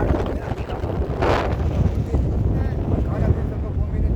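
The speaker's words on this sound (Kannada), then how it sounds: "ಭಾಳ ಗಾಳಿ ಬರ್ತಾ ಉಂಟು ನೋಡಿ ಮೇಲೆ" Strong wind buffets the microphone on a mountain forest trek to Netravati peak, a steady loud roar with broadband gusts throughout and no clear voice.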